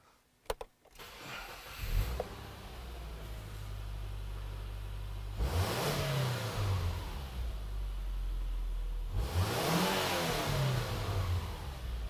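A clutch-equipped car engine cranks and catches after a few clicks, settles into idle, then revs up twice in smooth rising-and-falling swells, loud and close with no talking.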